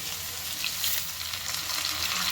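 Potatoes and kohlrabi fry in a pan as chopped tomatoes go in, giving a dense, even sizzle that stays loud and close with no talking.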